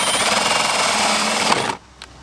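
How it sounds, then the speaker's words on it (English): A power drill at about 700 RPM bores through an Amazon shelf, giving a loud, continuous grinding whir that cuts off abruptly, followed by a brief faint clatter. "A blowout from a drill at 700 RPMs."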